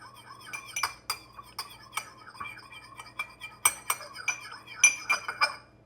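A knife stirring leftover food in a dish makes close, irregular clinks and scrapes against the dish, repeating through the whole stretch with no talking.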